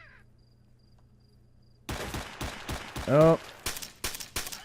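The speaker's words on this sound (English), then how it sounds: "I shoot you with my Mac" Rapid bursts of MAC submachine gun fire in the video game Stalker follow a quiet stretch, sharp close cracks in uneven clusters, with a brief spoken exclamation mixed in.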